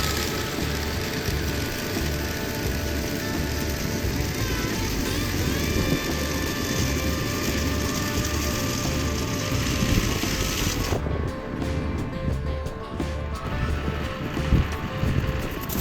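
A tractor-mounted sickle bar mower cuts an overgrown, steep pond bank, with a steady engine drone and the rapid chattering of the cutter bar running continuously at moderate distance.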